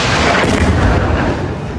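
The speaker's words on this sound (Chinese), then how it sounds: "飞弹呼啸而过，直接击中眼前的大楼，瞬间尘土飞扬，伴随着震耳欲聋的爆炸声" A missile strikes a building in Gaza, a loud, sustained explosive roar with deep rumbling boom filling the whole moment, close and overwhelming with no voices.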